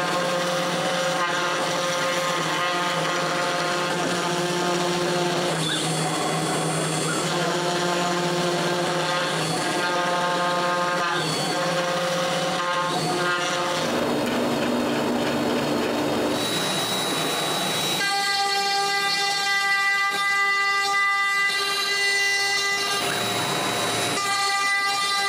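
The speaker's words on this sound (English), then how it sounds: "let the CNC do its thing" A CNC machine cuts a wooden kitchen recycling bin project in a workshop, producing a loud, continuous high whine with shifting pitch and steady grinding throughout, changing tone partway as the cut moves.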